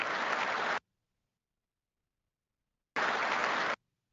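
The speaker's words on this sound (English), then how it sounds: "And everybody applauds." Two short bursts of audience applause, each under a second, separated by a long silence; the clapping is dense and fairly loud, like an inserted sound effect, with no voices present.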